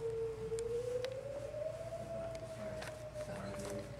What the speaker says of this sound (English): they did practice on Monday to make sure it works, the tornado siren